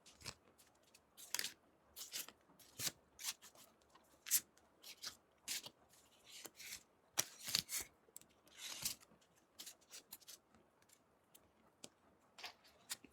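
Playing cards are shuffled during a soft-spoken ASMR medical roleplay. Quiet, close riffles and flicks come in irregular bursts over a faint, hushed background.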